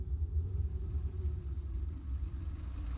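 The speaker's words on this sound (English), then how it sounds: "Heard a truck." Low, steady rumble of a truck engine in Arma Reforger, a deep droning throb that holds at a fairly even level throughout with no voices.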